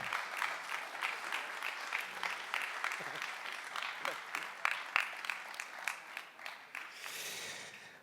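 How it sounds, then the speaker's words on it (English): Audience applauding the winner of a match, a soft, fairly distant patter of clapping with a rhythmic pulse, continuing steadily to the end. "Ladies and gentlemen, big applause for our winner"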